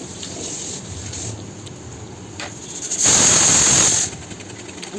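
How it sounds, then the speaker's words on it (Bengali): Pressure cooker whistle heard in a home kitchen while a lentil dish cooks, a loud, hissing steam blast of about one second that rises out of a quieter background of low hiss. "আমার প্রেশারের সিটি"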